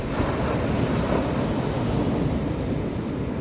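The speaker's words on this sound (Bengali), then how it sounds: "শুধু ঢেউয়ের আওয়াজটাই শোনা যাচ্ছে।" Ocean waves breaking on Varkala beach in Kerala, a loud, unbroken wash of surf mixed with strong wind noise on the microphone, close and steady with no voices.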